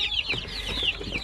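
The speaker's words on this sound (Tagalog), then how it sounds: "So hindi pa naubos, marami pa tayong mga sisiw." A group of young chicks kept indoors with the light switched off peep in quick, overlapping high-pitched chirps, close by and continuous.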